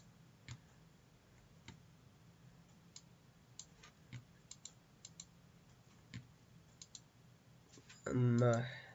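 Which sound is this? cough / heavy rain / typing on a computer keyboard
typing on a computer keyboard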